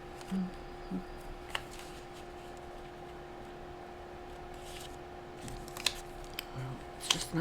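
Scissors cut a white piece of paper at a craft table for a mini masterboard, making a few faint, scattered snips and clicks over a quiet room hum.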